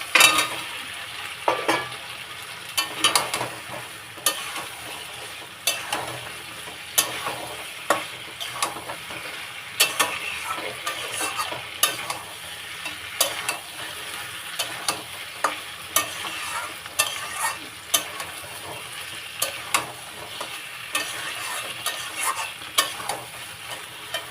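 Fried potatoes stirred into a cooked-down masala for aloo dum, a continuous sizzle with repeated sharp spoon scrapes and clinks against the pan at an uneven rhythm.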